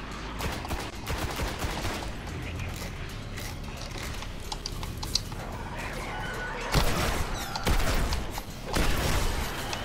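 Shotgun blasts in the Destiny video game, loud repeated booms amid busy mechanical clatter, with a few heavier shots standing out near the end.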